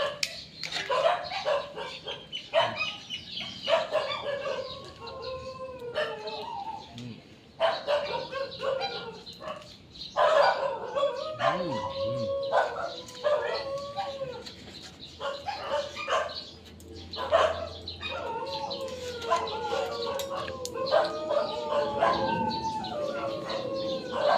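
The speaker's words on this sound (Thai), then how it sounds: "เขาได้กลิ่นเราเขาจะเห่า เรียกตลอด" A neighbor's dog barks in repeated bursts at middle distance outdoors, mixed with bird chirps and a steady background hum throughout.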